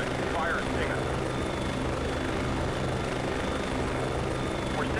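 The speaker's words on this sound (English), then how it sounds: "A drone helicopter will appear in front of you." A drone helicopter in the combat flight game Comanche 4 drones with a steady, loud rotor and engine roar throughout, while a voice talks over it.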